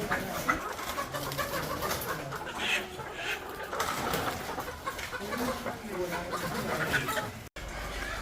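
Hens and chicks cluck and cheep in a three-tier henhouse, with scattered bird calls over a busy background, while someone talks nearby.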